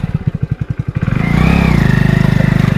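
A motorcycle engine idles with a fast, pulsing putter, then revs up into a steady, loud drone close by at night on a road.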